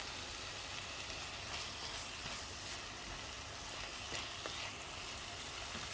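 Food sizzling softly in olive oil and butter in a pan, a faint, even frying hiss with light crackles, steady and without speech.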